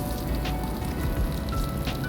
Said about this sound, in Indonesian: Ini saya tumis bawang merah juga jahe.